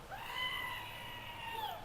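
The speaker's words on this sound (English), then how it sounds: "The Screaming Goat button." A battery-powered Screaming Goat novelty button lets out one long, loud, wavering goat scream that lasts nearly two seconds over faint background noise.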